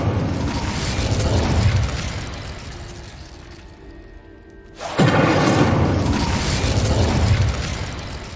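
A fiery Incendio spell from Hogwarts Legacy erupts in two loud, roaring bursts of flame, each a dense whooshing blast lasting a couple of seconds, separated by a quieter mechanical lull.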